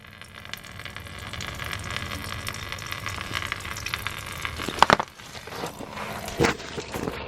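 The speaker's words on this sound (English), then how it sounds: "I'm going to drain the coolant out of the radiator through the petcock" Coolant draining from the radiator petcock of a Chevrolet Impala with the GM 3.5L engine, a continuous close trickle and splash of liquid with a few clunks and knocks near the end.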